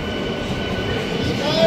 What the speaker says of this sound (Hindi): ट्रेन गई संगलदान से सुमड़ की ओर